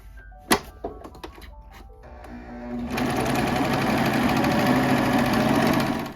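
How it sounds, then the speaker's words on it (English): A domestic sewing machine stitches a seam on a vintage-style McCall's 8358 dress, starting after a few loud thunks and handling sounds, then running steadily and close for the last three seconds. "now I'm ready to keep sewing"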